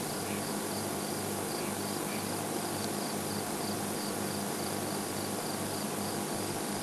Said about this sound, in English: can still hear quite a lot of crickets around us as well